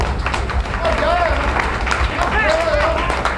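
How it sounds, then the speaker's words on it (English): Crowd applause for fighters at a Lion Fight Muay Thai weigh-in, a steady dense clapping wash with a voice talking over it. "a round of applause for all of our fighters"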